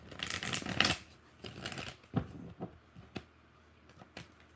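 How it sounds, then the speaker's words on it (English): Tarot cards are shuffled by hand, a dense riffling burst followed by several soft, separate taps and flicks as the deck is squared, close and quiet with no speech. "One more shuffle after this one."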